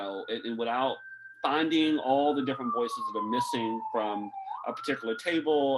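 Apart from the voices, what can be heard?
siren passing in the background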